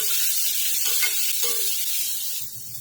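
Grated ginger and green onion roast in a pan with a close, continuous hissing sizzle that fades slightly toward the end, with no talk.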